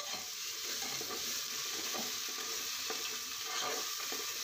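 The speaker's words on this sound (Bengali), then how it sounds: "মশলাটাকে ভালো করে কষিয়ে নেব" Ground spice paste of cumin, dried and green chili and pepper sizzling in hot oil in a pan while being stirred, a steady close crackling hiss with faint scraping.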